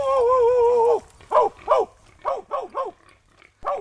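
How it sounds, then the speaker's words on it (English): Hunting dogs bay and bark in short, repeated bursts at a group of wild hogs standing their ground in South Texas brush, led by one long drawn-out howl, close and loud. "The dogs have located a group of hogs that has chosen to stand its ground rather than run."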